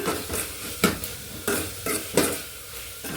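Egg curry bubbling in a pot while a spoon stirs it, with steady sizzling beneath rhythmic scraping strokes that come roughly every half second to second, close and clear.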